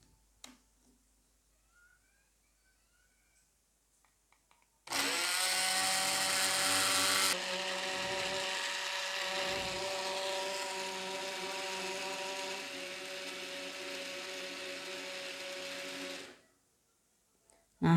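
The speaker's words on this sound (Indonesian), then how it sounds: "sekarang kita akan blender" An electric blender whirs through guava, fresh ginger and water for a smoothie, starting abruptly with a loud high whine that settles into a steady motor drone for about eleven seconds before cutting off.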